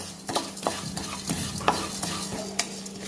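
Cumin and fenugreek seeds being stirred while they roast in a pan over a low flame, a soft scraping with a string of sharp clicks from the spoon against the pan under a faint sizzle.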